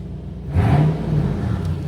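Toyota 4Runner engine revving through a custom stainless steel catback exhaust, a low rumbling idle that swells into a louder rev about halfway in, then settles back to a steady drone, with no voices.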